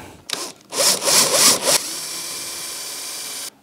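A power drill with an 8 mm bit bores into wood: a few rough, grinding bursts as it bites in, then a steady whirring hum that runs on for nearly two seconds before cutting off.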